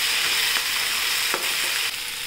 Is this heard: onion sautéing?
yes